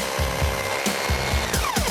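Someone hammers while fixing a TV bracket to an indoor wall, a close series of sharp knocks coming about four times a second in an uneven rhythm.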